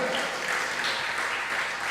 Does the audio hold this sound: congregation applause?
yes